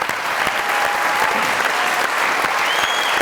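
A studio audience on the Mazaq Raat comedy talk show breaks into sustained, loud applause, a dense wash of clapping that holds steady for a few seconds with no voices over it.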